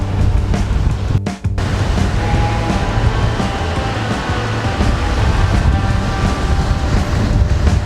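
Ocean waves wash and surge around a sailing boat in a steady broad roar, with wind and hull-on-water noise filling the whole stretch and a brief dip near the start.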